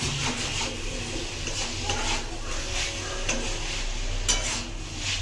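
Chicken and masala being stirred and sautéed in a kadai for an egg chicken roll, a steady scraping stir over a soft sizzle with light utensil clinks throughout.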